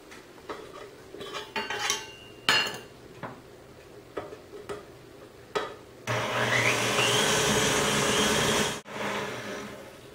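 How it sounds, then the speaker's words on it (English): Utensils clink against a bowl before an electric mixer whirs steadily and loudly for about three seconds, beating butter and sugar at medium speed for piña colada cupcakes, then cuts off abruptly. "I'm going to start by adding 1/2 of the amount of sugar to the bowl and mixing it at medium speed for 1 minute"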